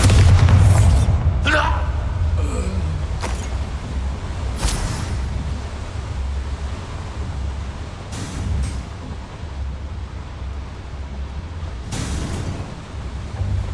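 Booming spell blasts and explosions from Bombarda and Confringo in the Hogwarts Legacy video game, several loud bursts spaced over a constant low rumble.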